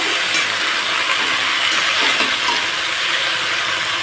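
Bottle gourd shoots fry in a pan while being stirred, giving a loud, continuous sizzling hiss with faint scraping and bubbling throughout and no voices.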